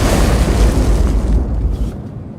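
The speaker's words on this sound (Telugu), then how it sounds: "చూస్తే అది బంతి కాదు, బాంబు." A bomb explosion in a Telugu movie scene lands as a loud, deep boom with a rumbling blast that rolls on for about two seconds before quickly fading out.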